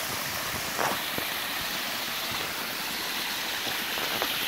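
Seasonal waterfall beside a logging road in Willamette National Forest, a steady broadband rush of falling water filling the whole clip, loud and constant with no voices.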